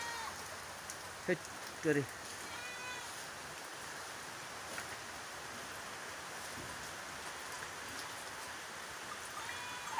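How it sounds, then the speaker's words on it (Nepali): Steady, soft rain patters continuously at a low level, with a brief voice speaking near the start. "आमा पानी परेको दृश्यहरू त"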